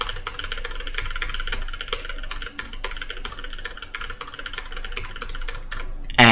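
Rapid, continuous typing on a brand-new Razer BlackWidow Elite mechanical gaming keyboard with silent tactile switches, close and clattery with dense key clicks, ending in a brief louder rustle.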